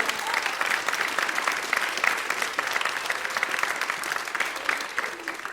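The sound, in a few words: audience applause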